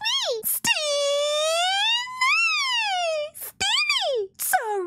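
A human voice imitates a male Bewear, the Pokémon, with a long, sustained, brassy wail that swoops upward, then drops, broken by a few sharp breaths and short cries near the end.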